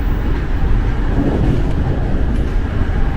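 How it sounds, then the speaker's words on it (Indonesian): Long freight train passing a moving commuter electric train: a steady, loud rumbling roar of rolling wagons and rail noise, continuous and close, with no clear breaks. "panjang juga nih kereta barangnya."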